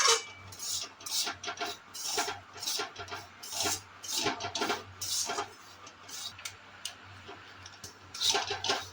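A metal spoon scrapes and stirs ripe mango patishapta filling frying in a pan, in repeated rough strokes with brief pauses and steady low background hum.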